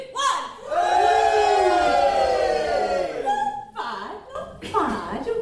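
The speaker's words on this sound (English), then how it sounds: "Can you give us a cheer and make it sound like you're in Wembley Stadium" A live crowd at a punk festival gives a long, loud sustained cheer and roar lasting about three seconds, then short bursts of shouting and laughter follow while a voice speaks over the hall.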